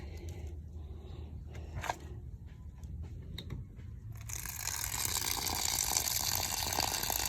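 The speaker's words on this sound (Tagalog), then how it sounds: "lagyan natin siya ng tubig" Water poured into a container over insects, starting with faint scraping and handling noises before a louder, steady gushing pour takes over for the last few seconds.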